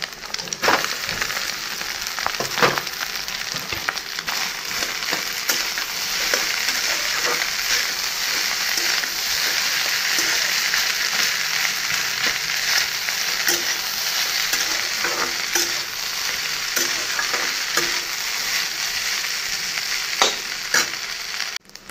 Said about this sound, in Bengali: ডিমটা ফাটিয়ে দিয়ে দেব, ভাতটা ভাজা করে নেব।